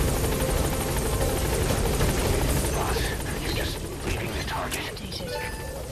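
A helicopter hovering over a landing zone in Metal Gear Solid V: The Phantom Pain, a loud, steady rotor chop and whine filling the scene, with voices talking over it.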